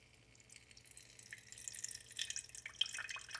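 Water dripping and trickling from a leaking 3D printed rain water filter with fine mesh: faint, quiet patter of scattered drops building into a light trickle.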